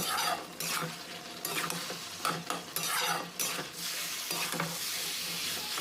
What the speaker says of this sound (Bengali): ঢাকনা খুলে আবারও এটাকে আমি একটু নাড়াচাড়া করে নেব